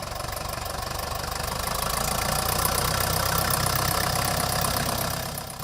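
A 1955 Case 400 diesel tractor engine runs steadily at idle with a rough, knocking mechanical chatter, loud and continuous throughout, easing slightly at the end, with no talk.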